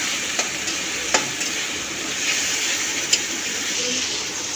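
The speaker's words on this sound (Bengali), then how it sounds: "দেখুন, কষানো হচ্ছে" Food being stir-fried kosha-style in a home pan gives a steady, close sizzle, with a few sharp spatula scrapes and clicks against the pan.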